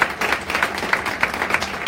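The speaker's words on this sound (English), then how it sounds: "Give a round of applause for our gold sponsor." Modest applause at a startup pitch night event honoring a gold sponsor, a thin crowd clapping with distinct individual hand claps standing out in an uneven rhythm, moderately loud for about two seconds.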